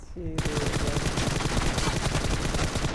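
Rapid automatic gunfire in the video game PUBG, a dense continuous burst of loud, close shots running through nearly the whole stretch after a brief voice at the start.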